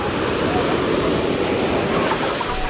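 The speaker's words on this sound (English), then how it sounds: "I see these big waves" Big ocean waves breaking with strong currents, a loud continuous roar of surf that fills the whole stretch without pause, with some wind noise mixed in.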